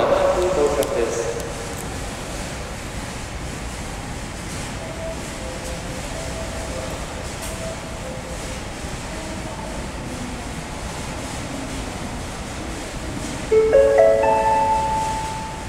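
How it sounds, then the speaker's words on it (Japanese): The last Osaka subway Tanimachi Line train of the night, bound for Dainichi, pulls into Temmabashi station with a steady underground rumble beneath platform announcements; a brief tonal chime sounds near the end. "大日行き最終電車まもなく到着です。"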